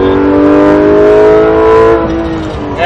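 Porsche GT3 RS engine revving hard on a hot lap, a loud sustained drone with rising and falling pitch as it accelerates, heard from inside the car, easing off near the end.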